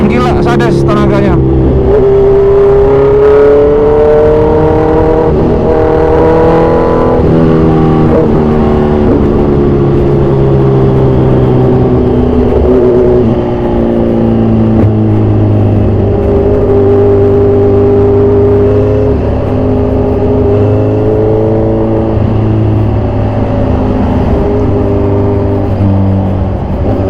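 A modified 2014 Kawasaki Z1000 Sugomi motorcycle engine, loud and close, revving up sharply then holding a strong droning pitch that rises and falls through gear changes for the whole stretch.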